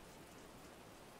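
Steady, hissing rain in the video game Wolfenstein: The New Order, with a soft, even patter across the whole moment, no voices, heard at a constant low level.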